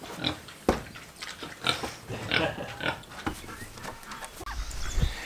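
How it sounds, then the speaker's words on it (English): Pigs being raised for butchering on a small farm grunt and snort close by, a busy run of short irregular oinks and snuffles over an outdoor background, with no talk. "We're raising these pigs out to butcher them in November"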